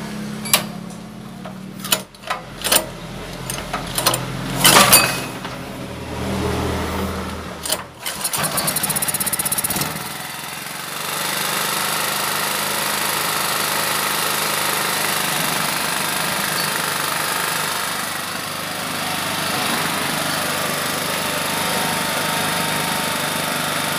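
A Honda GX200 generator engine is pulled several times with sharp sputters, then catches and settles into a steady, loud running drone that continues to the end.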